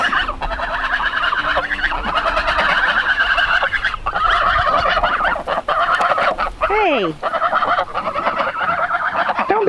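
Small flock of domestic geese honking loudly and continuously nearby in a backyard, with one brief rising call standing out and a short spoken word.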